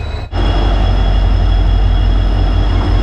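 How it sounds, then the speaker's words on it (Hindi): The Gorakhpur Mailani Express with LHB coaches arriving at Aishbagh Junction, a steady loud rumble of rolling rail wheels and coaches running close past, continuous after a brief dip at the start. "ट्रेन आने वाली है, ट्रेन का अराइवल आपको दिखाते हैं"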